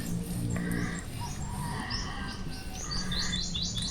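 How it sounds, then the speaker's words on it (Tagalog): Birds chirp and tweet steadily in a very quiet spot near Bara-bara, Capiz. The calls are bright, rapid and overlapping, with a faint low rumble under them and no talking. "Wala kang maririnig kundi huni ng mga ibon."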